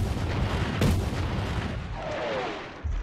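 Artillery fire in a WWII desert offensive rumbles as a dense, continuous roar with one sharper blast standing out, a heavy barrage filling the scene with no speech.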